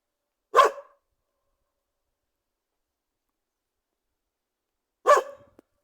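A dog named Ronne barks twice out of sight outdoors, two short single barks several seconds apart with silence between them, fairly distant.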